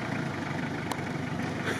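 A diesel engine of a 1970s-era off-road vehicle, a 3.0-litre non-turbo diesel, idles with a steady low rumble, continuous and fairly close, with a brief click partway through.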